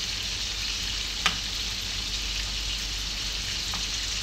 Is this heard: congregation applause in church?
no